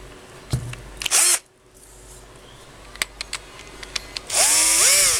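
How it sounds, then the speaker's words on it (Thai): An electric drill spins a 16-inch Hatari fan shaft in short whirring bursts, with a louder sustained spin near the end, plus clicks and handling noises in between. "ใช้สว่านมาทุนแรงหน่อย แล้วก็ จับไปที่แกน"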